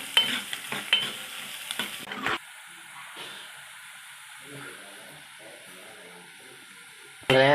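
Onions frying and being stirred in a pan for Kerala-style kadala curry. Clattering stirring comes first, then a steady soft sizzle with occasional scrapes and a sharp clatter at the end.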